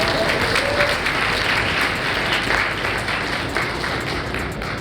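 Sustained audience applause at an awards ceremony, a broad, even clatter of many hands clapping throughout, gradually easing slightly toward the end, with faint voices underneath.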